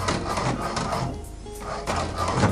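An HP DeskJet 2776 inkjet printer makes a copy, heard close as rhythmic mechanical whirring and clicking from the paper feed, with a brief quieter pause in the middle before the motor noise resumes.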